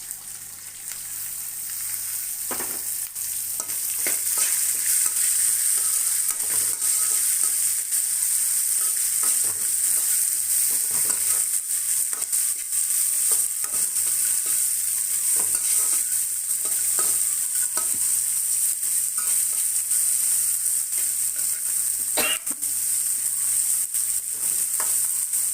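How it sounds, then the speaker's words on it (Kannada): Chopped onions fry in a pan for mango rice, a steady loud sizzle throughout with occasional stirring scrapes and clicks, no talking. "ಇವಾಗ ಈರುಳ್ಳಿ ಹಾಕ್ಕೊತಾ ಇದ್ದೀನಿ."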